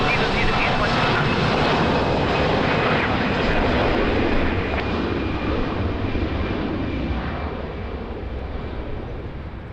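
A fixed-wing airliner roars loudly on landing approach at Lisbon Airport in rainy weather, a broad sustained engine rumble that slowly fades as it passes, with radio voices over it.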